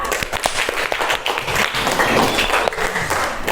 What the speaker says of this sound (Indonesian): Beri tepuk tangan untuk Mbak Kartika.